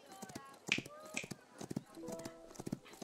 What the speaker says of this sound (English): Or I snap my fingers.